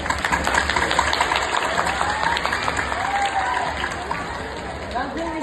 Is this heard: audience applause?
yes